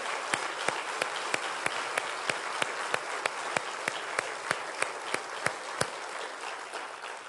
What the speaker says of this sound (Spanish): démosle un aplauso final a nuestro Dios